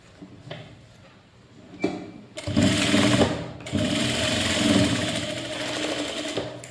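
A sewing machine stitches a folded blouse neck, first with a few soft clicks and handling noises, then a loud, continuous close-up motor whir with steady needle chatter.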